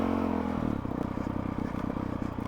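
A Honda CRF 450 RL off-road motorcycle fitted with a Yoshimura exhaust and Vortex ECU runs with a rhythmic, pulsing engine beat and some mechanical clatter, heard fairly quietly and without talk.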